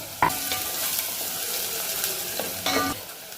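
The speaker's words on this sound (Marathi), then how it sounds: "तेल गरम झाल्यावर सर्वात आधी कांदा कांदा थोडा परतून झाल्यानंतर लसूण टाकलेला आहे आपण" Onion and then garlic sautéing in hot oil while being stirred, giving a steady close sizzle with a few sharper scraping and stirring clicks.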